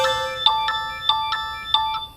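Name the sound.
phone ringtone, incoming call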